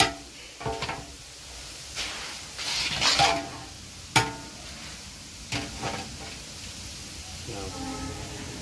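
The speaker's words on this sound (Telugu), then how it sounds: "ఇట్లా ఫ్రై చేసుకోవాలి" Boondi droplets frying in a pan, a soft steady sizzle with occasional stirring and scraping bursts, close and fairly quiet.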